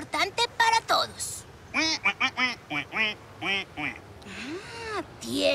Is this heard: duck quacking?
yes